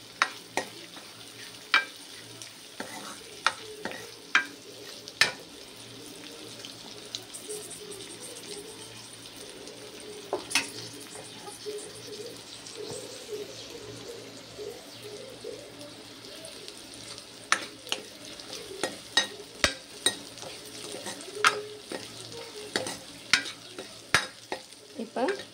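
Onions are stirred and fried in a pan for a Tamil lunch dish, giving a continuous soft sizzle broken by frequent sharp scrapes and taps of the spoon against the pan.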